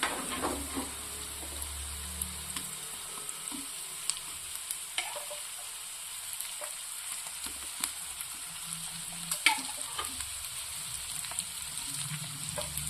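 Onions and tomato sautéing in a pan for a lunch-box rice dish, with a low steady sizzle and scattered stirring clicks and scrapes throughout, fairly quiet and close, no talking.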